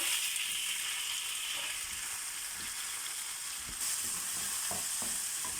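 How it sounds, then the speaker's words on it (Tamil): Chopped tomatoes fry in a pan with a steady, bright hiss of sizzling oil, close and constant, broken by a few faint stirring clicks. "இப்போ கட் பண்ணி வச்சுருக்க தக்காளியை போட்டுக்கலாம்."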